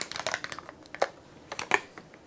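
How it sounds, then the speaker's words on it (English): Batteries being swapped in a microphone: close, scattered clicks, crinkles and plastic rustles in short bursts, with no voices. "I'm switching the batteries of my microphone."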